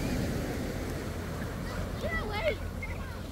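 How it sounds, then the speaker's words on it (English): Big ocean waves roll onto the rocky shore at Acadia on a foggy day, a low, continuous wash with wind buffeting the microphone. A person talks over it. "Big old waves."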